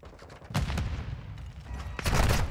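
Gunfire in a first-person shooter game during a college esports scrim comes as two dense bursts of rapid, loud shots separated by a short lull.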